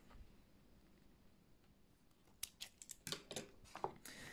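Scissors snipping crochet yarn, a few sharp crisp clicks after a quiet stretch, close by and alone.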